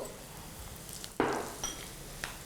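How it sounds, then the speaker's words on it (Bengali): Vegetables and sweet potato drop into a hot pan of oil with green chillies, and a sudden burst of sizzling rises over a steady frying hiss, close by and without talk, followed by a few light clinks. "এরপরে এতে দেব আমি আস্তে আস্তে সব সবজিগুলো, মিষ্টি আলু"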